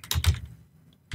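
Computer keyboard keys clack in a quick burst of three or four strokes, a short pause, then another sharp keystroke, close and crisp with no talking.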